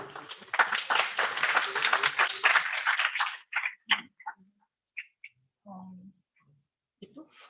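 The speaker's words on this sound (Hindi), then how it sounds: "इनसे लिए भी ढेर सारी तालियां।" Students in a classroom during a lecture on Karnaugh maps clap together for about three seconds, a fairly faint patter of many hands that fades out, followed by sparse quiet sounds and a brief voice.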